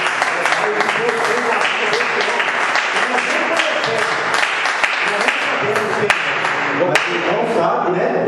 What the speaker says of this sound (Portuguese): Que a igreja dê uma salva de palmas.